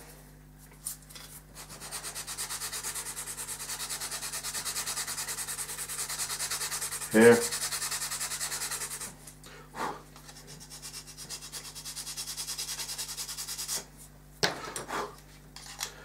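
A small model intake assembly part being hand-sanded: a steady, close rubbing rasp that runs almost continuously, broken by a couple of brief pauses and a soft knock, with a single word spoken briefly.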